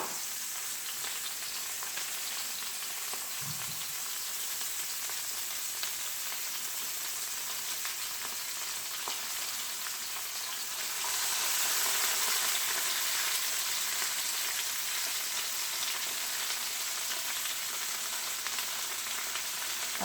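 Chopped onion sizzling and frying in hot oil in a pan alongside mushrooms for beef stroganoff, a steady broadband hiss that swells louder partway through as the onion hits the oil, with no talking.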